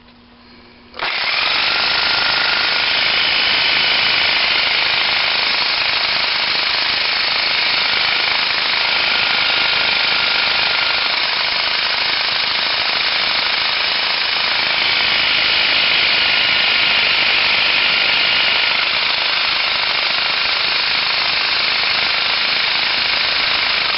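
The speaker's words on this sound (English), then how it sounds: "Now that we've sawed that off, let's see what we got." A rusted connecting rod on a 1926 McCormick Deering engine is sawed off, a loud, continuous harsh rasping grind right up close that holds steady for over twenty seconds.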